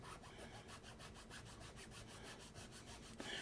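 Steady rhythmic sanding strokes on 3D printed resin parts, a dry scratchy rasp repeating quickly and evenly, close up with no talking.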